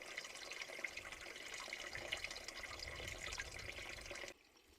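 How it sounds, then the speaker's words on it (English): Running water at a trail water source on the Arizona Trail, a steady gurgling flow heard up close with no talk, cutting off abruptly near the end. "Sound of running water."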